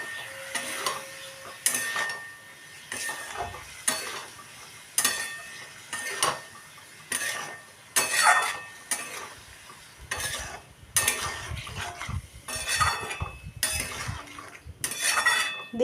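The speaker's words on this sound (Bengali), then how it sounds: "দিয়ে এবার মশলার সাথে আমি আলুটাকে ভালো করে কষিয়ে নিচ্ছি।" Boiled potatoes are stirred with spices in a pan, a spoon scraping and clinking against the metal in repeated rhythmic strokes over a faint sizzle.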